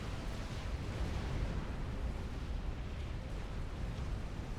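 A sustained, rumbling explosion roars in a real-time strategy battle on the Plateau of Arracis map, dense broadband blast noise holding steady and loud throughout.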